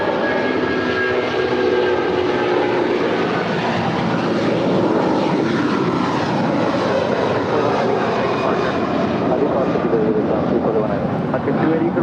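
A United airliner lands on runway 25 left at LAX, its engines giving a loud, steady roar that fills the whole stretch, with no break and no voices over it.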